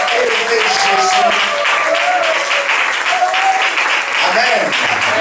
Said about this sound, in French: Est-ce qu'on peut lancer encore une acclamation avec des cris?